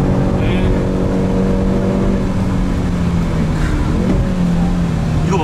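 A Hyundai Veloster N engine accelerating hard on the Inje Speedium circuit, a loud, steady drone whose pitch climbs as it revs near the end, with people talking over it.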